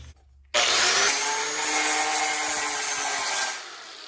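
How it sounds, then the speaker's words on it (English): Angle grinder cutting off a part on a 1970 140 H3 engine, a loud abrasive whine that starts abruptly, holds steady for about three seconds and then fades away, with no talk. "Let me get the grinder."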